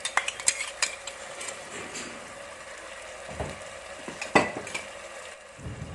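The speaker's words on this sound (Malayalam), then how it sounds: "ഇപ്പം നമ്മൾ ചതച്ചെടുത്ത ചുവന്നുള്ളി ചേർക്കുന്നുണ്ട്" Crushed shallots fry in a beef masala in a pan. A soft sizzle runs beneath scattered clinks and scrapes of a spoon stirring against the pan.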